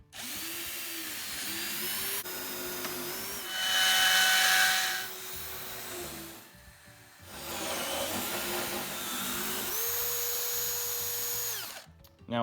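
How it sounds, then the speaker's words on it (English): A power drill bores a deadbolt hole through a door from the second side, a buzzing whine that runs in several bursts with brief pauses and pitch shifts, moderately close and with no talk. "Now we'll start drilling from the other side."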